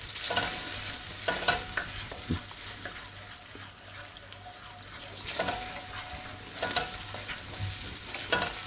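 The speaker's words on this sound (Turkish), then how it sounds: "Bu şekilde güzelce kavuruyoruz." Beef and beef tail fat sizzle and crackle frying in a pot while a utensil stirs and scrapes at intervals, with a low hum underneath and no one speaking.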